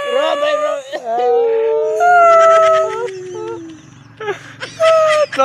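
Exaggerated, theatrical crying and wailing on request, long howling cries rising and falling loudly, with pauses and short whimpers between them.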